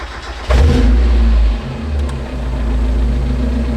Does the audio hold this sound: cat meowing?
no